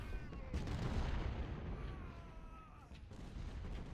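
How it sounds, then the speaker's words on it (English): Distant artillery duel of Civil War cannons in the strategy game Ultimate General: Civil War, a dense continuous rumble of booming fire rolling without pause throughout, loud and low-pitched with no talk over it. "it looks like it's just going to turn into more of an artillery duel"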